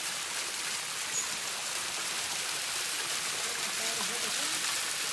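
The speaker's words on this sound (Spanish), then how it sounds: "Qué calidad está la cascadita esa" A small waterfall in the Guatemalan mountains gives a constant, close rushing hiss of falling water that stays steady throughout.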